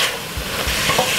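Red cabbage stir-fried in a pan at home, a steady close sizzle with a few soft scraping stirs across a short stretch, no voices.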